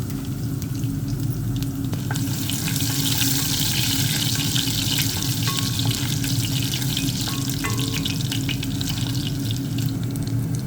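Garlic and curry leaves fry in hot oil as the base for a cabbage and black-eyed pea stew, giving a steady, close, continuous sizzle with no voices.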